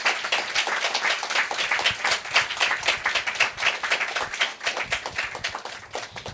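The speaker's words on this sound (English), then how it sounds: "I think we should give a round of applause to our wonderful speaker" An audience at a discussion event on Sino-European relations gives a speaker a sustained round of applause: dense, steady clapping from many hands, fairly close and continuous throughout, with no talking.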